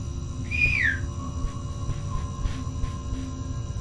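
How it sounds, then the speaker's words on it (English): One short rising-then-falling whistle from a person exploring a dim, humming backrooms-style space, followed by faint, distant echoing whistles over a steady low hum. "I'll keep whistling till I find you."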